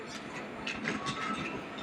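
A toy train runs along its track with a soft, rattling clatter and light clicking, fairly quiet and close, with no one speaking.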